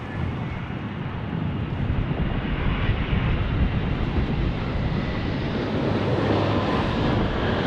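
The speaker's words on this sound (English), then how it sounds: "It's a Delta Airlines A350." Delta Airlines Airbus A350 jet airliner near Las Vegas in a strong crosswind, a loud steady broadband engine roar that holds for several seconds with no talk over it.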